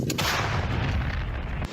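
One loud artillery gun shot, a powerful close boom with a long reverberating rumble that fills the clip before cutting off near the end.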